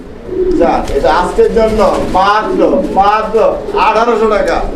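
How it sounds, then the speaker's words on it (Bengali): Pigeons at a pigeon farm give repeated throaty coos close by, nearly continuous across the clip, with a voice talking over them. "দর্শক আমরা এই মুহূর্তে দেখতে পাচ্ছি এখানে আরও একজোড়া কবুতর আছে"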